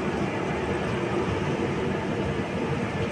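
A train pulling out of Tamluk station, a steady low rumble of wheels and carriages heard from on board, continuous and moderately loud with no voices.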